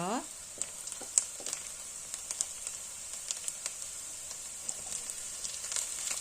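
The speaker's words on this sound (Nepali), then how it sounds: "प्याज एउटा काटेको मसिनो गरेर एकैछिन फ्राई गर्नुपर्छ" Finely chopped onion and green chilies frying in oil for veg fried rice, a quiet continuous sizzle dotted with small crackles and pops.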